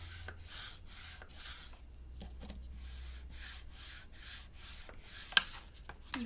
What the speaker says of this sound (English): I'm using the thicker part of my bone folder, which is about 1/8 of an inch